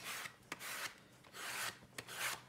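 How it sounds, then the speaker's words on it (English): Rhythmic rasping strokes of a sanding block rubbing back and forth over shoe insoles, close and fairly quiet, with short taps between passes and no talking. "got a sanding block"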